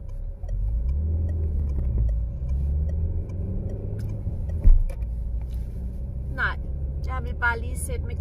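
From inside a car on the road, the engine hums low and steady, with a thump and a few light clicks and rattles near the end. No one speaks.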